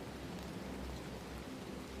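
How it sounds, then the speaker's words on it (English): Soft, steady rain falls without pause, a faint even wash of patter with no voices over it. "where the steady rain carried on without interruption."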